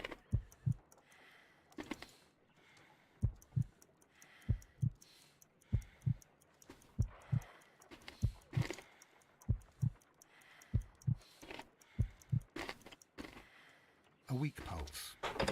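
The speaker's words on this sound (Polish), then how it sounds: "A weak pulse, around 50 beats per minute." A slow, weak heartbeat in Sherlock Holmes: Crimes and Punishments comes as low paired thumps in a steady rhythm, about one beat every second and a half, with faint clicks and a voice talking over it.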